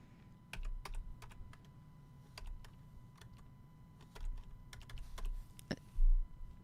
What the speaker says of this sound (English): Let's type it in together.